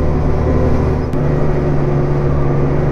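A tractor drives across a field at about 10 km/h while sowing spring barley for brewing, a loud steady engine drone heard close from the cab, with no voices.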